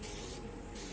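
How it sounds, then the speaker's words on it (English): A brief close hiss of light spray paint coats over stencils on an MB Jeep, with a short soft break midway before the spray resumes. "So what I do is I would spray it"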